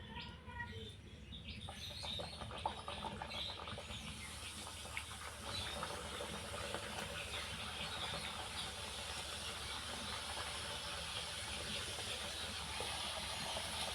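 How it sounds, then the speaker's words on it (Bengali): Snacks go into hot white oil in a kadai over a medium flame, and a soft hiss swells after a couple of seconds into a steady, bubbling frying sound that carries on evenly. "তেলটা গরম হয়ে গেছে, এবার স্ন্যাক্সগুলো ভেজে নেব"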